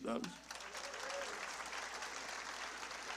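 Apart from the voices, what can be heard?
church congregation applauding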